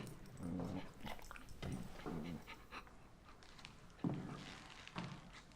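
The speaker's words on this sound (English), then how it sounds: "Is that a dog under your desk?" A dog hides under a desk in a classroom, whimpering and panting in soft, short bursts that come and go. Quiet room tone sits underneath, with occasional faint bumps and no one speaking.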